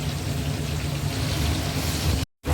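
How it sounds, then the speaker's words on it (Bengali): Potatoes frying in hot oil for aloo dum, a loud, steady broadband sizzle that holds evenly before cutting off abruptly near the end. "এবার এর ভেতর দিয়ে দেবো আমরা, দেখো তেল আমাদের পুরো রেডি হয়ে গেছে। এর মধ্যে দিয়ে দেবো আমরা আলুটা।"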